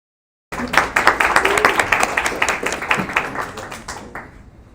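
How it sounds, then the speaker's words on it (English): Applause breaks out for the final committee at a Model UN closing ceremony: a dense, loud crowd of many hands clapping steadily for several seconds, then tapering off near the end. "let's give a big round of applause to our final committee"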